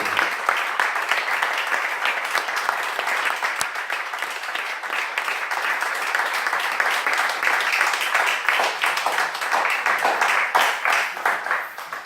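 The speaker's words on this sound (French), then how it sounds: "je vous propose d'applaudir notre..." A conference audience applauding the speaker after a talk on universal basic income, dense continuous clapping from a full room, loud and sustained for twelve seconds.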